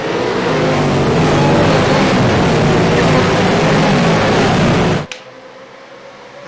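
Several V8 race car engines roar loudly and continuously in a racing game at a race start, a dense wall of revving that cuts off abruptly near the end, leaving a faint hum.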